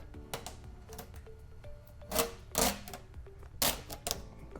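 Template being peeled off 3M VHB tape on a Tesla emblem, giving a few close, sharp crackling rips and tearing bursts between quieter rustling, with no talk.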